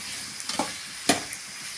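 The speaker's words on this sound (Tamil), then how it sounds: "வெங்காயம் வதங்கிறதுக்குள்ள கத்திரிக்காய் நல்லா வதக்கலாங்க." Brinjal sautéing with onions in a pan gives a soft, low sizzle broken by a few short scraping stirs, the sharpest one about midway, fairly close and quiet.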